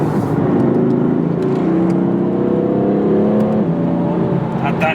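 A BMW M4 with dual-clutch transmission revs under throttle, a loud, sustained engine drone rising and shifting in pitch with a slight gear change partway, heard from inside the car.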